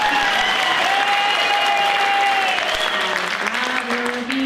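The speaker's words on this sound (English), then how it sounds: "More applause." Audience applause at a vaudeville-style variety show, steady, dense clapping filling the room at full volume with a few sustained tones of music or singing running beneath it.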